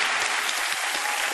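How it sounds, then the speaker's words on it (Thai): A burst of dense audience applause, many hands clapping steadily and loudly without pause. "ขอเสียงปรบมือดังๆให้กับเด็กคนนี้เลยฮะ"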